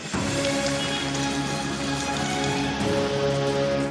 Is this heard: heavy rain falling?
yes